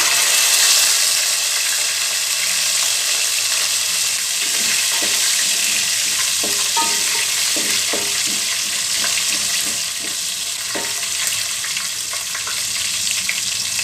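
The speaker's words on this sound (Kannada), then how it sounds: "ಈಗ ಕ್ಯಾಪ್ಸಿಕಮ್ ಹಾಕ್ತಾ ಇದ್ದೀನಿ" Capsicum hits a hot pan already holding cumin, bay leaf, cinnamon, cloves, cardamom and stone flower, giving a steady, close sizzle broken by scattered clicks and scrapes of stirring.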